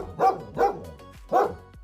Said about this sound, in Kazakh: Иттің үруі.